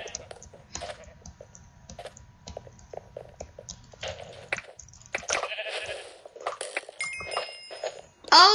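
Sheep bleating in Minecraft on the Mineplex server, several short bleats scattered among clicks, keyboard-like taps and game effects, with a louder burst of sound near the end.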